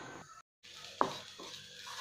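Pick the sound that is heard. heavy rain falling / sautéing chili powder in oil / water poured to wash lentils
sautéing chili powder in oil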